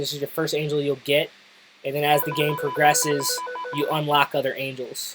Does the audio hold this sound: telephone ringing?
yes